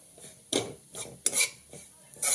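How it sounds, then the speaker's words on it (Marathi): Grated coconut being roasted in ghee: a spatula rasps and scrapes against the pan in several short, uneven strokes, close and clear, with a faint sizzle underneath. "खोबरं चांगलं भाजून घेऊया तुपावरती"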